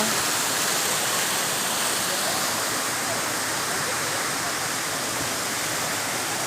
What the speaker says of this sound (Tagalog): Bulalakaw Falls po ito.